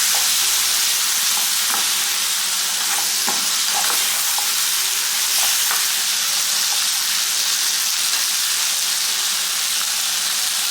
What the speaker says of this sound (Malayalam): കായ് ചേർത്ത് എല്ലാം കൂടി നല്ലതുപോലെ ഒന്ന് ഇളക്കി യോജിപ്പിക്കണം.